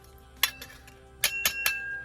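Metal bracelets and other jewelry clink together in a few sharp, bright taps, one early and three in quick succession near the end, close and fairly quiet.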